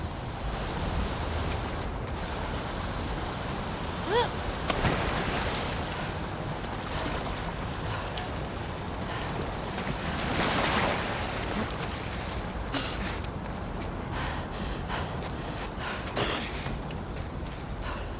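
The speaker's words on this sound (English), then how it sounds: "the player was faced with a fast-flowing torrent of water they couldn't cross" Fast-flowing sewer water torrent in The Last of Us Part II, a steady, dense rushing roar that stays loud and constant throughout with no voices.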